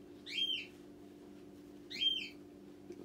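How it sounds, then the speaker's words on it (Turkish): A pet bird sings indoors, two short bright whistled phrases spaced well apart, moderately faint over a steady low household hum. "Odada olmayınca Rıfkı ötüyor."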